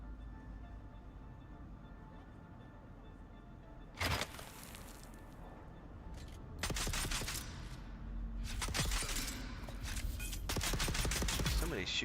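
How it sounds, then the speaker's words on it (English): Gunfire in the Dune: Awakening game, with several sharp bursts of rapid shots, one near 4 s and longer volleys from about 6.5 s onward, over a steady low ambient hum. "Somebody's shooting."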